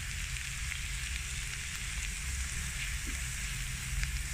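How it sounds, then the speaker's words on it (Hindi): Flour roasting in a pan with sautéed onion gives a steady, dense frying sizzle that crackles evenly throughout, close and continuous with no talk. "मैदे को मैं भूनूंगी"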